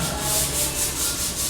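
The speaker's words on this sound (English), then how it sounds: "he's just sanding it back, and they will be brought back to the light brown colour with grain" Rhythmic sanding strokes rub back and forth across wooden cutouts for lights at a staircase in a house under construction in the Philippines, close, steady and alone.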